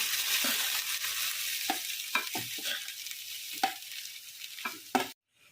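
Grated coconut and cardamom fry in ghee over a low flame for modak filling, giving a steady close sizzle broken by sharp scraping stirs, then a sudden cut to near silence at the end.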